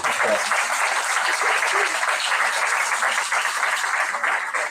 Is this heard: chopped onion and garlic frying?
no